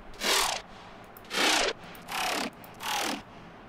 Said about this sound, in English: And some bass growls.